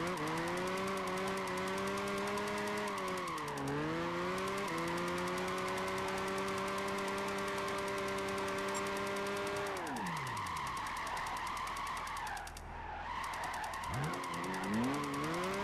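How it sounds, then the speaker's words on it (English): A BMW 1 Series tii with a 500-horsepower engine in Gran Turismo 5 revs hard under drifting, the engine note rising and falling through gear changes while tires squeal and skid, loud and close with no voices. "The 500 horsepower engine just makes it go"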